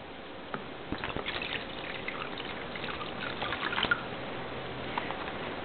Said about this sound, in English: We're going to pour the water